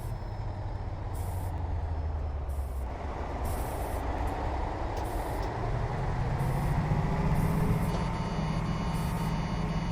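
The Coachbus 303 in the bus simulator OMSI 2 gives off a steady, evenly spaced reversing beep over a continuous low engine drone and road rumble, with no talk.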